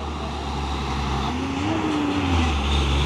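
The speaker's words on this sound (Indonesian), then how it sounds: "Truk tangki CPO berlewatan ini ha." A CPO (crude palm oil) tanker truck rolling past on a hill road, a loud continuous engine drone with a rising and falling tone as it passes close by.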